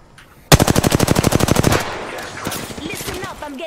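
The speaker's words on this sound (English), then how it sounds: "Listen up, I'm getting shot at." Rapid automatic gunfire in an online battle royale shooter, a loud sustained burst of evenly spaced shots lasting over a second, followed by scattered quieter shots and game effects in the background.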